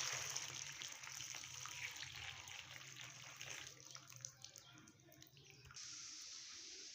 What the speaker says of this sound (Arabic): نحط اللبن